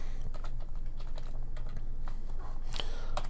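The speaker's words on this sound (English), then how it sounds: "at this point we can type in our boilerplate" Code is typed on a computer keyboard while a basic C program is written in Visual Studio 2010. Rapid, uneven key clicks come close and clear, with a few louder key strikes near the end.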